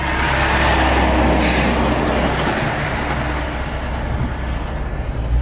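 A car transporter truck loaded with new Corvette C8 convertibles rumbles past close by, a loud, sustained roar of engine and rattling trailer that fades slightly toward the end.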